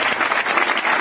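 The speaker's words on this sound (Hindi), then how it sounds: "जोरदार तालियां दर्शिला मैम और सुरेंद्र सर के लिए" Loud, steady audience applause at a Hindi motivational talk, dense clapping filling the whole moment without any voice over it.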